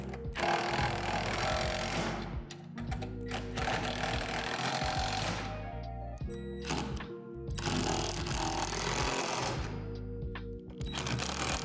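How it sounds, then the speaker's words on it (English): Hardware being tightened during assembly of a Lifetime 44-inch portable poolside basketball system: steady mechanical ratcheting and clicking with metallic scraping, close and continuous over a constant background sound. "Now go back and tighten all the hardware from the previous steps."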